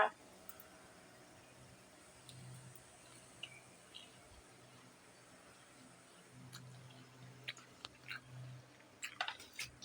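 Someone eating soaked, sprouted mung beans and chickpeas, with soft, intermittent close chewing and small squishy mouth clicks, quiet and with no talk.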